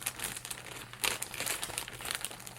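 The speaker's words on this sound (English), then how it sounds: "I'll maybe have to edit out some rustling now." Yarn is handled close by, making continuous crinkly rustling in irregular bursts, with no talking.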